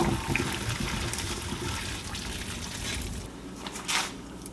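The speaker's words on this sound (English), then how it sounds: "Okay, it's been 10 minutes and we are going to now drain this water." Water splashes and gushes as soaking water is drained from a pot of beans for feijoada, close and fairly loud, with a pour that stops and then one more burst.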